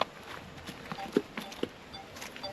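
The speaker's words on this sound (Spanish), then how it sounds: "Ahora me sigue porque le di una zanahoria y quiere otra." A wild horse walking on open ground in a remote abandoned town in central Australia, its hooves giving a few faint, irregular clip-clop steps close by, with light background noise and people nearby.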